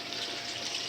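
A small 540-gallon-per-hour pump in an above-ground fish pond keeps water circulating with a steady, even trickling rush that runs unbroken throughout, with no voices.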